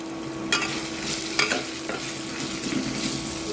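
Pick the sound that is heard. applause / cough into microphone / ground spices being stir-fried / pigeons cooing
ground spices being stir-fried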